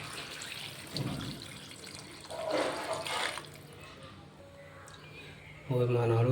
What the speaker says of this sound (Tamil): திட்டமாக தண்ணி வச்சிங்கன்னா வேலை முடியுது.